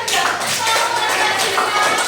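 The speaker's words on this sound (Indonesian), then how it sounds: "Kasih tepuk tangan buat kalian." Schoolchildren in a classroom clap together in a brief, lively burst that holds steady throughout, close and fairly loud.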